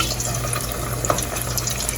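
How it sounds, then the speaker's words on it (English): Steady crackling sizzle of tofu nuggets frying in bubbling canola oil, a dense hiss with small pops, no talking. "I'm going to start trying to fry them."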